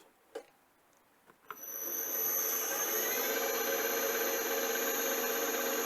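Small milling machine fitted with a collet spinning up to 900 rpm after a few clicks, then running as a steady whirring hum with a high-pitched whine, close and alone.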